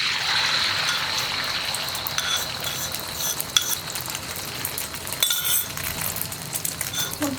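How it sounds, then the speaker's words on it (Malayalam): Beaten eggs poured into hot sunflower oil in a pan give a steady close sizzle, with light clinks and scraping from stirring throughout. "ഇതിലേക്ക് നമ്മൾ ബീറ്റ് ചെയ്ത് വെച്ചിരിക്കുന്ന മുട്ട ചേർത്ത് കൊടുക്കാം."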